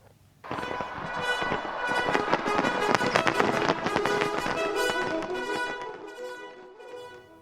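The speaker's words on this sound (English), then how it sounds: "Thousands of fireworks shells erupted across the night sky above Victoria Harbour" Dense bursts of New Year fireworks crackle and pop in rapid succession above Victoria Harbour, Hong Kong, a loud sustained barrage that gradually fades toward the end.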